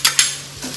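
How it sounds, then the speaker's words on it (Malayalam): Chopped ginger added to softened onions in a frying pan, a couple of quick close utensil clinks and stirring scrapes over a soft sizzle, very short. "ഈ വഴന്നു വന്ന സവാളയിൽ ഒരു 10-30 സെക്കൻഡ് ഇട്ട് വഴറ്റിയതേ ഉള്ളേ."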